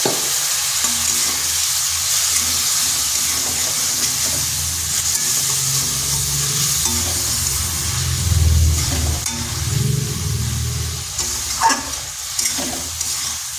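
Spiced cabbage masala with a splash of water sizzling and frying steadily in a pan, with a continuous loud hiss and occasional stirring scrapes.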